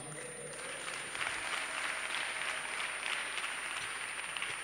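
Church congregation clapping at a Youth Sunday service, a steady dense wash of many hands that holds for the whole stretch at moderate level, with faint voices mixed underneath.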